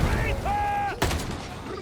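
A massive twin-barreled autocannon fires in Darktide, a sharp loud burst cutting across a mechanical whine and game noise, then fading into a rumbling tail.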